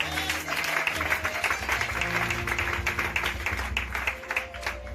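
A church congregation applauding during a French-language sermon, a dense steady wash of clapping from a crowd with voices mixed in, sustained and fairly loud throughout.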